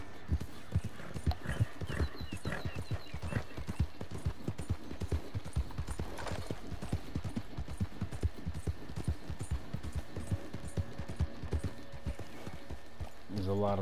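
Galloping horse hooves clop in a steady, fast rhythm throughout a ride in Red Dead Online during a moonshiner mission, loud and close, with a brief whinny near the end and someone talking over parts of it.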